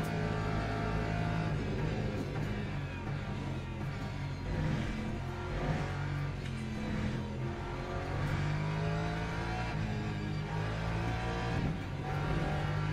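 A Lexus race car engine in the sim racing game Le Mans Ultimate roars continuously, revving up and down through gear changes on track, loud and close with no talk over it.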